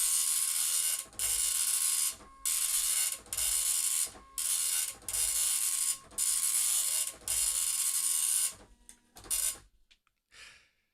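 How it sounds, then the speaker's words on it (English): A 1983 Apple dot matrix printer prints in loud, rapid buzzing bursts, about eight passes separated by short pauses, then falls quiet after a few softer mechanical clicks. "I really like dot matrix printers."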